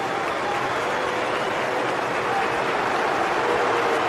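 A football stadium crowd at a World Cup match between England and Senegal roars after Bellingham's equaliser, a loud, steady wall of cheering and applause that holds throughout.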